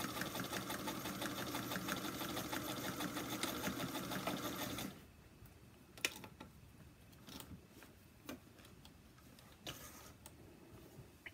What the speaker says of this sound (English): Let's go ahead and sew from one corner to the next.